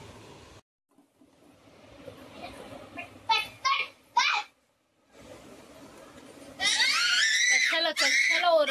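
A young girl screams and cries at home in short, shrill bursts, with quieter stretches and domestic talk between them and a sustained loud wail toward the end.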